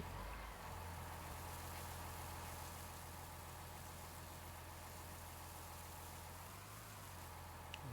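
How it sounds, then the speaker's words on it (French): Tractor engine idling in the Farming Simulator 19 video game, a steady low mechanical hum held at an even level throughout, with no talk. "Alors je vais prendre le tracteur et on va tout de suite voir ça ensemble."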